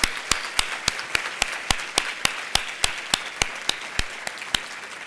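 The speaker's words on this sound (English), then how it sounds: "let's give them a round of applause for their support" Gala awards audience gives a round of applause, heard as a steady series of sharp, evenly spaced claps over a soft crowd wash, fairly close and moderate in level, with no talk.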